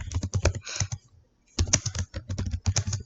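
Rapid clicking of typing on a computer keyboard, close and crisp, with a burst of keystrokes, a brief pause, then more steady typing.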